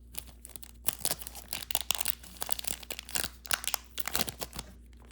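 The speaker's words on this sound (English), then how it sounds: "That foil is a challenge to open all these years later." Old 1986 Sportflics baseball card pack with a stiff foil wrapper being crinkled and torn open, a close, dry run of crackling rips and crunches in uneven bursts with no talking.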